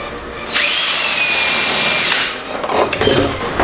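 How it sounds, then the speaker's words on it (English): A power drill spins up and whines steadily for about a second and a half nearby, drilling a hole while fitting a BMW M3 intake, then stops, followed by scraping and handling noises. "Drill."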